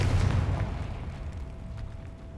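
Bombarda and Confringo spells go off in the game Hogwarts Legacy, a deep booming blast at the start that fades into a low rumbling tail with a faint tone.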